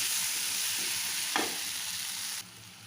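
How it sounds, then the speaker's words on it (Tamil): Ivy gourd (kovakkai) fries in a pan for a hotel-style fry, giving a steady close sizzle with a single stirring scrape partway through before the hiss eases slightly. "அந்த கோவக்காய் நம்ம மிக்ஸ் பண்ணிக்கலாம். பண்ணி நல்லா வறுத்து விடுங்க."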